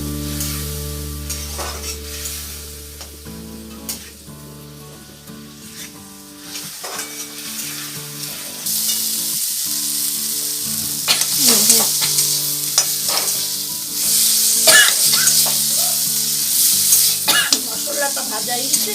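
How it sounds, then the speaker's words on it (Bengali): Spices sizzle and fry in a pan for Bengali rui fish curry while being stirred, a steady loud hiss with scraping stir strokes that grows louder partway through, over a low background hum. "এটাকে ভালো করে কষিয়ে নেব।"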